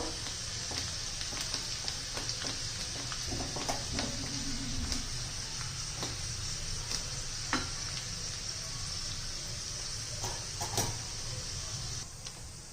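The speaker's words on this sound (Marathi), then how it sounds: "छान असा वास सुटलेला आहे आपला या फोडणीचा खूप छान असा तडका बसतो" Garlic tempering (tadka) sizzles in hot oil for a Vidarbha-style methi aalan, a steady close frying hiss lasting throughout with faint scattered pops and clinks and no voices.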